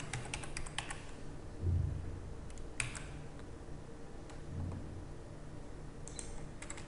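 Rapid light keystrokes on a computer keyboard while entering an invoice in business software, soft quiet clicks in short bursts against a low background hum.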